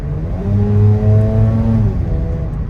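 A Mazda RX-8 40th Anniversary sports car engine revs up with a rising whine, holds a steady high drone for over a second, then settles back down; loud and close, no voices.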